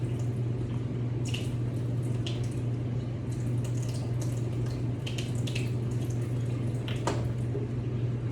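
Water trickles and drips into a container to rehydrate dehydrated quail eggs, soft scattered splashes over a steady low hum in a quiet kitchen.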